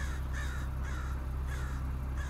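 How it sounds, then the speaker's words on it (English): Crow cawing outdoors near a parked car, a series of about five harsh caws in a regular rhythm over a steady low hum, clear and moderately close. "bird's going nuts out here"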